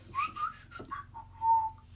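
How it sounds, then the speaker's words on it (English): A person whistles a short, wavering melody up close, several brief notes followed by one longer held tone, alone against a quiet background. "So nobody's on, so that means I have to whistle."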